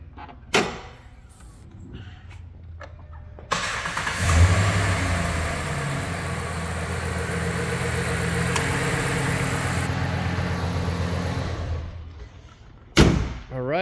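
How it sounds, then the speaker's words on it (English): A 2010 Dodge Ram 1500 Big Horn pickup truck cranks and starts after a few clicks and thumps, then runs at a steady, fairly loud idle for several seconds before cutting off near a door-like thump. "We will start it up for you real quick."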